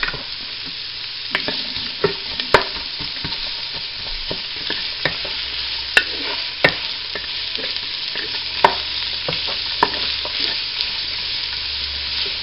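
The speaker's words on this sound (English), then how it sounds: "saute down the onions" Onions sautéing over high heat in a little oil in a pot, cooked with ham hock for puchero: a steady close sizzle with scattered sharp clicks and taps of stirring, no talk.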